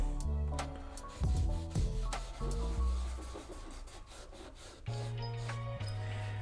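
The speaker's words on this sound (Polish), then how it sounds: "Bierzemy sobie ściereczkę, maciamy, tutaj maciamy i lakierujemy, olejujemy, olejujemy." A cloth rubbing oil onto plywood for kitchen furniture, heard as close, repeated scrubbing and wiping strokes with a low hum underneath, moderately quiet.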